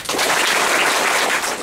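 Dense, loud applause from a convention panel audience clapping together, a continuous wash of many hands that stops abruptly almost all at once.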